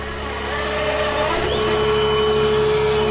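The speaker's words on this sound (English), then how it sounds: "Let's vacuum it out." A loud, steady vacuum drones continuously as it sucks spilled diesel out of a flooded boat cabin, close and unbroken.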